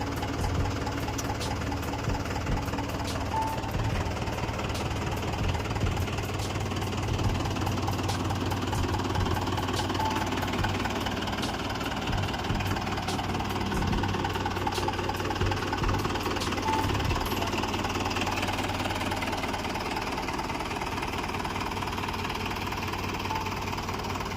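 A Mahindra 475 DI diesel tractor engine idles steadily for a long stretch, a low knocking chug with faint rhythmic ticks, fairly close and unbroken.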